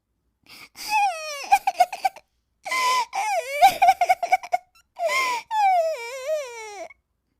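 Crying in a Hindi children's story, heard as a series of high wailing sobs and whimpers in separate bursts with short silent gaps, near and clear, seemingly a voiced imitation.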